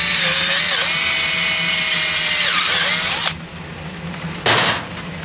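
A power drill whines steadily at close range while boring an extra hole through a metal mason jar lid, pitch dipping under load, then cutting off abruptly, followed by a brief clatter and handling noise.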